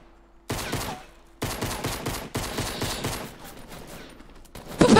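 Rapid rifle fire in a shooting video game, several loud bursts of repeated shots cutting in sharply one after another, each ringing out briefly before the next volley.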